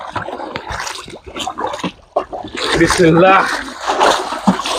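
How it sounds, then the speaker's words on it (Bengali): Water splashes and sloshes repeatedly in an uneven rhythm, close by, as water is bailed out of a village pond for fishing, while people talk and shout over it. "পানি হেঁচা শুরু হয়ে গেছে দেখতে পাচ্ছেন"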